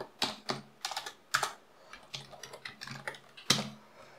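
Close, fairly quiet typing of JavaScript code on a computer keyboard, with irregular clusters of crisp key clicks and brief pauses between bursts.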